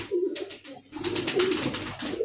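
Pigeons coo in repeated low, throaty rolls, fairly close and steady, from a loft of Giribaz, Madrasi and high-flyer pigeons in Murshidabad, including a yellow-eyed hen.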